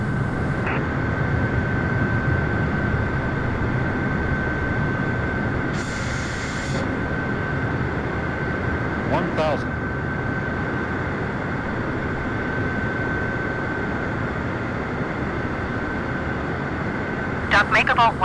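Steady broad engine roar of the Air Force One aircraft on final approach to land at Frankfurt, a constant loud drone with a faint steady tone, a few brief clicks, and muffled radio voices underneath.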